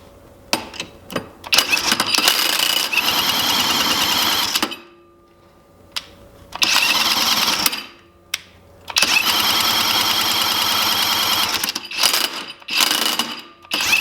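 A Kobalt XTR 24-volt brushless cordless impact wrench loosening a stubborn nut hammers in several long, loud bursts, split by short pauses and a few brief clicks.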